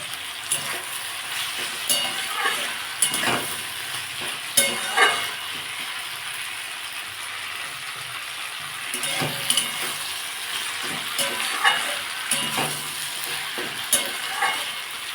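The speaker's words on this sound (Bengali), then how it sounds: "সিমটা আমার অনেকটাই ভাজা হয়ে গেছে এবার আমি চারটে কাঁচা লঙ্কা দিয়ে দেবো" Flat beans with green chillies fry in a pan with a steady sizzle, broken every second or two by the scrape and clink of a spatula stirring, close and fairly loud.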